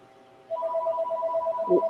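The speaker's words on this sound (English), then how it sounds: "Now my father's phone is ringing." A phone rings with steady repeating electronic tones, clear and fairly close, followed by a brief lower thump near the end; no talk over it.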